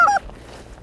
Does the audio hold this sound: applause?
no